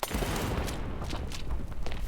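Grenade blast and gunfire in the mobile shooter Standoff: dense, loud burst of explosive crackle and rapid shots filling the whole moment with no talk over it.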